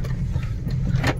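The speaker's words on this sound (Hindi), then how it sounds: "गाड़ी चल रहा है, हम लोग चल रहे हैं।" A car being driven, heard from inside as a low, steady rumble of engine and road noise, with a brief faint rattle near the end.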